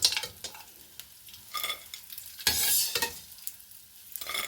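Edible gum (gond) fries in a kadai with bursts of crackling sizzle and intermittent stirring scrapes, moderately loud and close, with no talking.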